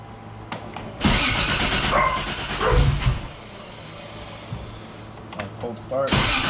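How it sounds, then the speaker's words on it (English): A Nissan GT-R R35 engine cold-starts: a loud, sudden roar at about one second swells for a couple of seconds, then settles into a steadier, quieter idle, with a few brief clicks and bumps near the end. "Cold start."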